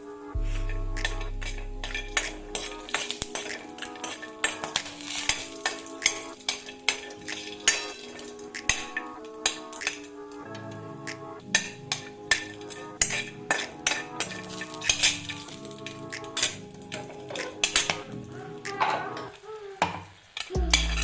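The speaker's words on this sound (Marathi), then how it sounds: "थोडंसं तेल टाकून खडे मसाले भाजून घेऊया।" Whole spices and cashews roasting in a little oil, stirred in a pan: a long series of clinks and scrapes of a spoon against metal in an irregular rhythm over a faint background sizzle, fairly quiet and close, with no speech.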